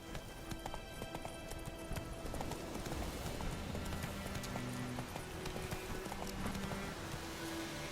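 Roach, the horse in The Witcher 3: Wild Hunt, gallops with rapid, rhythmic hoofbeats throughout, close and steady under a layer of game music and ambience.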